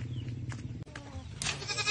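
Goats on a rural farm bleat in a few short calls over a steady low farmyard hum, fairly close and moderately loud, with no talking.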